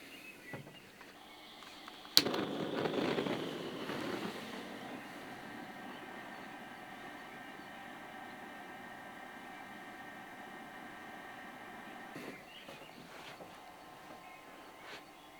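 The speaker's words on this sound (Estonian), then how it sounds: "käivitame supergeneraatori" A generator for a smoking setup starts with a sharp click followed by a rising hum that settles into a faint, steady mechanical drone running continuously afterward.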